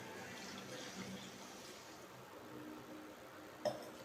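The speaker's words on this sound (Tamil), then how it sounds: "இந்த டைமில் வந்துட்டு நம்ம கொஞ்சம் தண்ணி ஆட் பண்ணிக்கலாம்." Steady running water pours continuously into a cooking pan of curry, with a brief louder splash or clink near the end; no one speaks.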